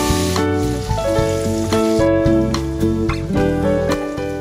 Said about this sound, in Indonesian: Kemudian lanjut kita goreng terinya guys.